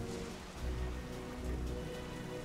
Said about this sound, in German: Der Regen ist stärker.